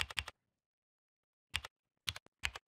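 Short bursts of crisp computer keyboard keystrokes, a quick double tap, a pause, then several more clustered clicks, close and clear over silence while a search is typed in.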